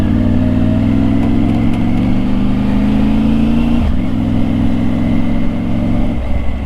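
A Triumph Tiger motorcycle hums steadily under the rider while cruising on the road. The drone climbs slowly in pitch, dips sharply at a gear change near the middle, then settles into an even note again.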